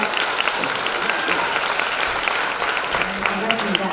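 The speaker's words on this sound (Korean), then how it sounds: "박수 부탁드립니다." An audience at a Korean music event applauds the introduction of the judging panel, with steady, dense clapping filling the room throughout and a host's voice talking over part of it.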